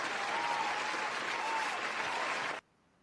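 A crowd breaks into loud, dense clapping and cheering that sustains evenly for a couple of seconds, then cuts off abruptly to near silence.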